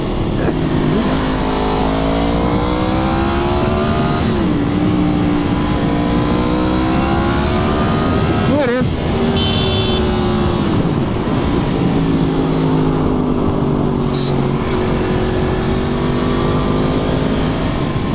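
A Yamaha FZ-10 (MT-10) naked motorcycle engine drones loudly and steadily while riding on a foggy group ride, with pitch rising and falling as the rider shifts and accelerates, accompanied by constant wind noise.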